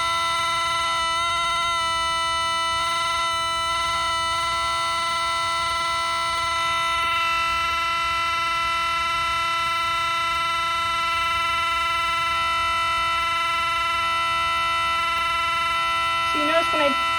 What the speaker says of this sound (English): You hear it's almost becoming like an FM signal.